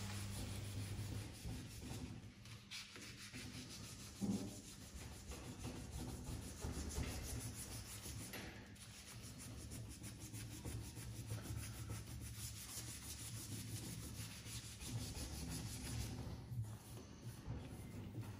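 An alloy car wheel is sanded by hand to remove its shine before painting, a continuous raspy rubbing that runs steadily throughout, close and fairly quiet, with brief pauses and changes in stroke.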